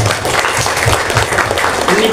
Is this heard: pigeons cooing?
no